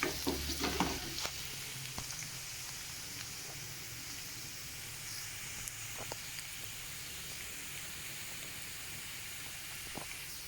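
Fried rice stir-fried over a high flame makes a continuous hissing sizzle with a few sharp clatters of the spatula at the start, then a steady, fairly quiet frying hiss throughout.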